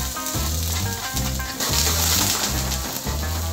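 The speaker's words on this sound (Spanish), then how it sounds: "Lo dejamos que quede bien caliente. Y le agregamos la cebollita picada." Chopped onion hitting hot olive oil in a pan, giving a steady, close sizzle with crackling texture that holds throughout, alongside a rhythmic low-pitched background pulse.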